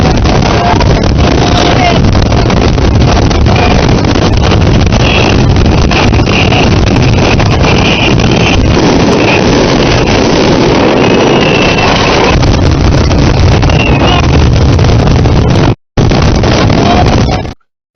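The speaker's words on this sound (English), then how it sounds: "that was the fireworks." A fireworks finale in Portugal: a relentless barrage of loud, distorted booms and crackles rolls on almost without pause, ending abruptly, with people talking faintly beneath it.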